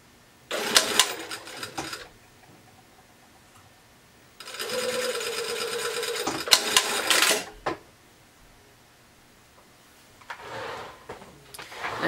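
A sewing machine stitches a T-shirt neckline in three short runs, a close, fairly soft whirring hum separated by pauses with light handling noise.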